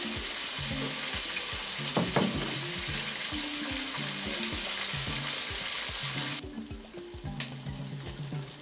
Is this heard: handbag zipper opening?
no